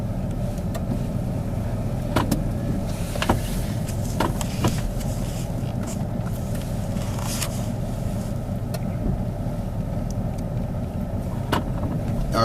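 A 4x4 vehicle in four-high drive rolls along an icy gravel road, a steady low cabin rumble with occasional ticks and knocks from the surface, close and continuous without talk.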